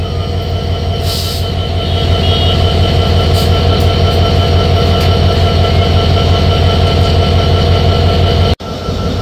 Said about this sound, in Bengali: ছেড়ে যাচ্ছি 5 বিবি রেলওয়ে স্টেশন।